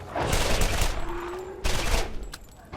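Rapid bursts of repeater pistol fire in Borderlands, with two loud clusters of shots separated by a brief lull and a faint mechanical whine between them.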